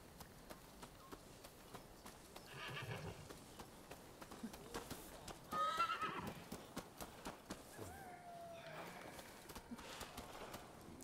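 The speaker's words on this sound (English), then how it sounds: "Pretty horse." A horse in the video game Rise of the Ronin whinnies clearly over a steady clip-clop of hooves, with a second neigh partway through, set against quiet ambient game sound.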